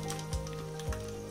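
Hot oil heating in a pan for a kadaknath egg biryani gives a soft, steady sizzle beneath a constant tonal hum, with two brief low thumps.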